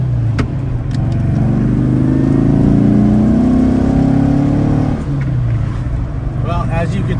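A 1964 Porsche 356C Sunroof Coupe drives along a road, its engine note rising steadily as it accelerates and then easing off, heard from the passenger seat with a short spoken phrase near the end.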